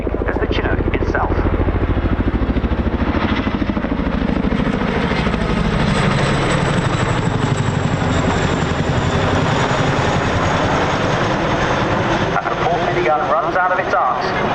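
A Chinook helicopter at the RAF Cosford air show makes a loud, continuous thudding rotor roar throughout, with a commentator's voice over it.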